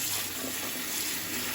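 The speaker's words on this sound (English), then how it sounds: "we'll just run some more water through this" Tap water runs steadily into a sink to rinse freshly picked stinging nettles in a colander, a continuous close hiss and splash with no pauses.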